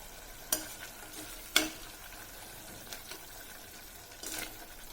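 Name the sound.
stirring tomato rice mixture frying in a pan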